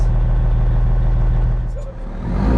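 An Australian truck's engine idles loud and close just after being fired up at home in the morning, a steady deep rumble with a strong low hum that dips briefly before settling back.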